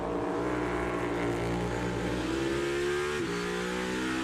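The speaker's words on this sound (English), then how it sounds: "There's a downshift, another downshift." A race car at the 2022 Verizon 200 practice and qualifying holds a loud, steady engine note, then the pitch drops on downshifts with sharp throttle blips between them.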